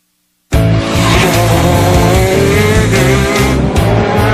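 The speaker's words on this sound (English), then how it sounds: "This Italian-made racing kart, with its one-cylinder 125cc engine, reaches speeds of 180 kilometers per hour." An Italian-made racing kart with a one-cylinder 125cc engine screams past after a moment of silence, loud and close, its harsh buzzing engine note held steady with slight pitch shifts.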